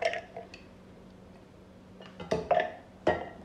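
Chicken nugget mixture being mixed in a bowl, quiet at first, then a few sharp clinks and scrapes of a utensil against the bowl toward the end.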